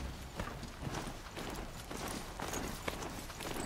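Horse galloping in the Horizon Zero Dawn video game, with rapid rhythmic hoofbeats in a steady repeating clip-clop pattern, fairly quiet and continuous with no voices.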